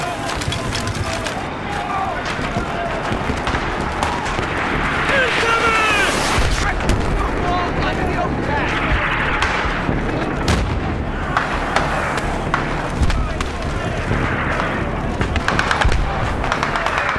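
Mortar and gunfire rumble through a Battlefield 3 military mission, booming explosions and crackling shots filling the scene over a steady din of combat, with voices shouting at times.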